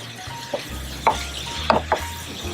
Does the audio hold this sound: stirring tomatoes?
yes